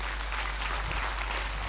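Clapping from the audience at a meditation gathering, a steady dense patter of many hands filling the whole short stretch at moderate loudness with no voices over it.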